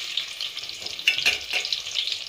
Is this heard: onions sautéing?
yes